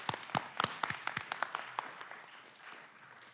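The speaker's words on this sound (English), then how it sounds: "Let's give him a big round of applause." A small audience at a county board of commissioners meeting claps, with sparse, distinct claps that thin out and fade as the applause winds down, heard quietly.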